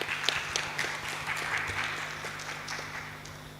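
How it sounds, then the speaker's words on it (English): An audience claps for a doctor taking the stage at a hospital sepsis conference. The claps are dense and steady, with a few sharper individual ones standing out, over a low, constant hum. "Let's have a huge round of applause for Dr."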